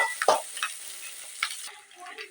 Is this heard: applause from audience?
no